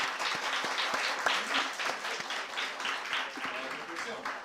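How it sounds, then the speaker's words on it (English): An audience at a marketing university challenge event applauds a motivational speaker, a steady wash of many hands clapping with scattered sharper claps, fairly close and sustained throughout. "Ladies and gentlemen, a round of applause for Mr."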